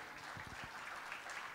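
Applause from a church youth service congregation, a dense, steady clapping that fills the whole stretch at moderate level, with a few low thumps near the start.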